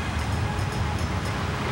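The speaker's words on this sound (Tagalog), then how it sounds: "Malaking alon!" Cartoon sound effect of a huge tsunami wave, a broad continuous roaring wash of water with a heavy low rumble, loud and unbroken with no voices.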